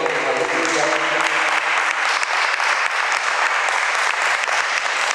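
Church congregation applauding during a sermon, loud, steady and sustained clapping from many hands filling the space without a break.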